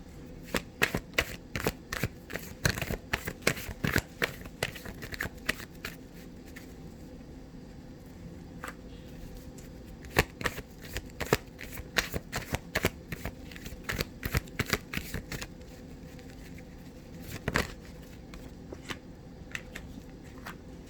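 Oracle cards being shuffled by hand for a card reading: long runs of rapid, crisp riffling and flicking snaps, close and clear, with a short pause partway through before the shuffling resumes, no voices.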